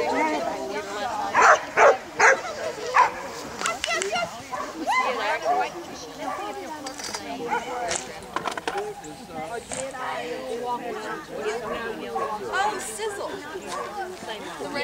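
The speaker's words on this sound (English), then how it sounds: "Did he go woof?" A mini dachshund barks and yips in short bursts close by, mixed with overlapping chatter from several people talking throughout.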